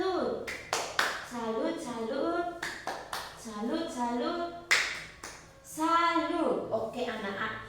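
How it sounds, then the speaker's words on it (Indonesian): A classroom of children performs a rhythmic salute clap: sharp, patterned handclaps set within loud group chanting, close by and lively. "tepuk salut ke untuk Anya."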